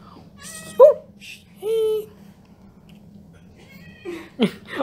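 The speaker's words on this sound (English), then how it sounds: "What do you mean, meow?" A cat yowls and caterwauls in protest at being held, giving several separate drawn-out meows with pauses between them, loud and close, and a person's voice is heard briefly.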